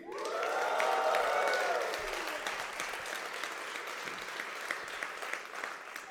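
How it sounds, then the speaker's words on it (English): A graduation audience at a December MBA commencement at Fontainebleau bursts into applause, loud and sustained at first with faint cheering, then settling into steadier, slightly softer clapping that carries through to the end. "so when I pause, you clap."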